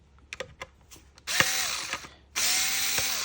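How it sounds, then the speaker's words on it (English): A power drill backs T10 screws out of the cyclone of a Dyson V7/V8 stick vacuum. Light clicks and handling taps lead into two short bursts of the drill whirring close by, with no talk. "I just got a drill here, which is easier for me as I do these all the time"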